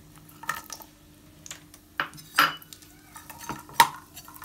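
Raisins are fried in ghee and stirred in a pan, making scattered spoon clinks and scrapes against the metal at close range, with no talking.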